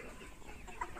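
KUB chickens, a native Indonesian breed kept as laying and breeding hens, cluck continuously in a noisy pen, with a slightly louder squawk near the end.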